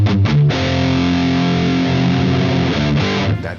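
An electric guitar plays through a Marshall JCM800 2203 amp pushed into power amp distortion: a few picked notes, then a thick, gritty sustained chord ringing loud, struck again near the end before fading.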